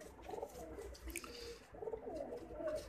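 A Mohar pigeon cooing in soft, low repeated phrases, two or three bursts close by, with a faint steady background hum and no talk.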